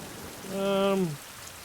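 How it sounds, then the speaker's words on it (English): Steady rain patters in the background while a brief, harmonic, voice-like call rises and falls in the middle. "And we are rained on once more."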